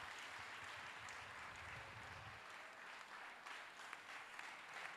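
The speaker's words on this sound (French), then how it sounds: "Let's clap." Worshippers clap together during a French and English praise and worship service, dense continuous applause holding steady for several seconds, with a low rumble in the room at first.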